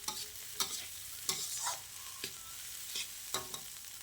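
Egg fried rice stir-fried in a pan, with repeated sharp scrapes and clanks of the spatula over a soft ongoing sizzle, close and uneven in rhythm, with no talking.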